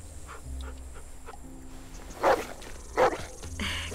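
In The Walking Dead video game, a dog gives two sharp, loud barks about a second apart over a quiet game ambience.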